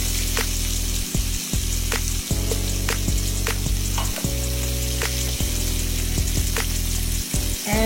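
Rainbow trout frying in a pan of hot oil makes a loud, continuous crackling sizzle with scattered pops, close up, over a steady low hum and no talking.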